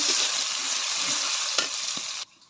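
Onions frying in a pan in a home kitchen alongside fish and bori, a steady hissing sizzle with a couple of soft utensil scrapes before the sound drops away abruptly near the end.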